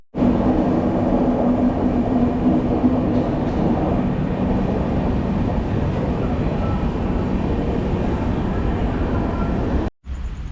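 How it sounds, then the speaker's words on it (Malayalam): A train stands alongside at a railway station on the Coimbatore to Thiruvananthapuram route, giving off a loud, steady low rumble and engine hum that continues throughout, then cuts out briefly near the end. "ഇതിപ്പോൾ അപ്പുറത്തെ സൈഡ് ട്രെയിൻ നിർത്തിയിട്ടിരിക്കുവാണ്"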